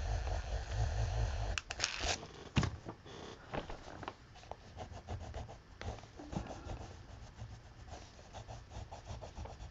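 An eraser rubbing out white sketch lines on paper, with close, repeated scrubbing strokes that are dense and loud at first, then lighter and more intermittent, with no talking.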